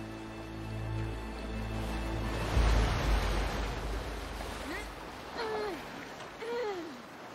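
Sea waves wash in a steady broadband roar that swells and recedes, with a heavier surge midway and faint cries like gulls over the surf near the end.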